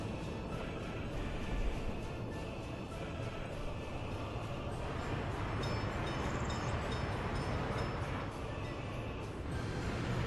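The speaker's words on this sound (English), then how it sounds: "Train is waiting too long with chemicals." Train hauling chemicals in the Workers and Resources video game, a steady moderate rumble of rolling rail cars with faint higher tones on top, continuous throughout and no talking.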